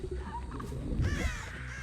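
A couple of crow caws from The Artist's crows in the game Dead by Daylight ring out over a low background hum, brief and fairly close.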